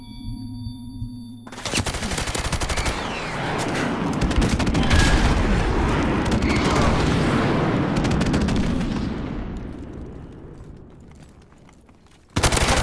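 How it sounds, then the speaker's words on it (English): Loud, dense battlefield barrage in Call of Duty: Modern Warfare Remastered, a friendly airstrike of rumbling explosions overlapping rapid machine-gun fire for about ten seconds before fading, then a sharp new burst at the end. "Friendly airstrike on the way."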